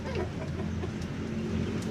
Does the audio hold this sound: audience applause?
no